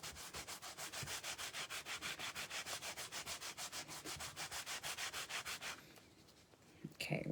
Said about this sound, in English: we're going to go over top And we're just going to wax the whole surface.